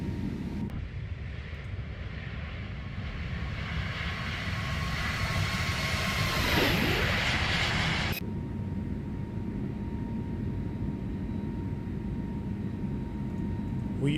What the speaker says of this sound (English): That flyby sound.